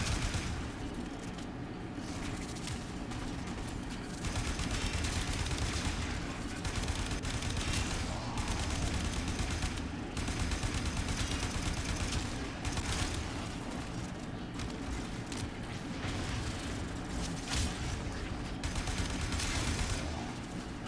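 Video game gunfire during a kill mission: dense, sustained volleys of shots and bursts roll on without pause for about twenty seconds. The barrage stays loud and is heard alone, with no voices.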